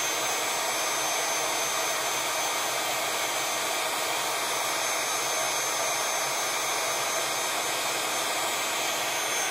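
A heat gun blows steadily and loudly at close range, warming puffy paint on a drawing, a continuous broadband roar with no break.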